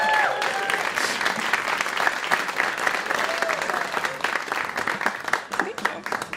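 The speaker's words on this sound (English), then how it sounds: "If you wouldn't mind joining me in welcoming him to the stage with a big round of applause." An audience breaks into a big round of applause as a chef from the Pasta Supply Company is welcomed onto a food game show stage, dense sustained clapping with some voices and cheers mixed in.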